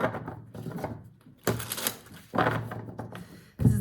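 Oracle cards shuffled by hand in several quick riffling, slapping bursts with brief pauses between, close and clear, with no speech.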